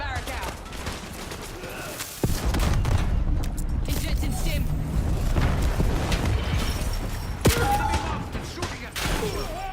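Gunfire in Call of Duty Black Ops 7 rattles through sustained bursts and booming shots, loud and dense, with sharp louder reports standing out near the start and later on, while players talk over it.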